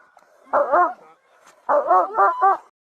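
Police dog barking during a traffic stop, two bursts of loud, close barks, a short yelping bark followed by a rapid series of three barks after a brief pause.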